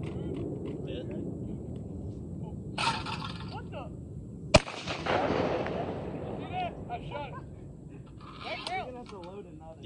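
A single loud Retay 20 gauge shotgun blast at an outdoor skeet range, sharp and close, with people talking and calling out before and after the shot.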